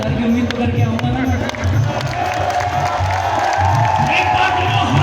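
A large crowd at a Shyam temple kirtan festival claps and cheers loudly, rhythmic massed clapping with whoops and shouts filling the space, voices mixed through the din.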